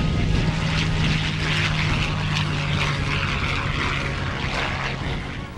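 A P-51 fighter plane's propeller engine runs steadily at a grounded airfield event, a loud continuous roar with a throbbing low drone.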